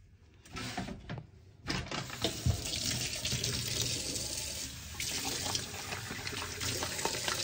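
Tap water running into a bowl in a home kitchen while cornstarch is being diluted, starting after a couple of clicks and then flowing steadily nearby.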